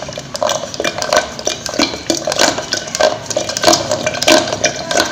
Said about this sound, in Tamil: இப்போ நான் தண்ணி விட்டுருக்கேன், இதில் ஒரு கொஞ்சம் நேரம் நான் கடையிறேன்.